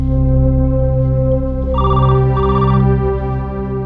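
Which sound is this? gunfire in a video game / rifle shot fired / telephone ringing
telephone ringing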